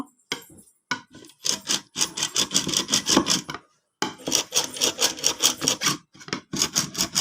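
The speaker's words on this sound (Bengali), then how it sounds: "তো আমি এরকম একটা হুইস নিয়ে ডিমগুলো ভালো করে বেটে নিব" A whisk beats eggs for cake batter in a bowl, a fast, steady run of scraping, rattling strokes, close and clear, broken by a few short pauses and restarts.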